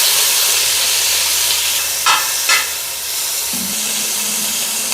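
Ginger, green chili, tomato and shallots sautéing in coconut oil for a crab curry in coconut milk, a steady loud hiss of frying with two brief clinks partway through, close and without speech.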